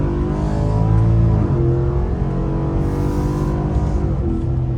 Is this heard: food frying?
no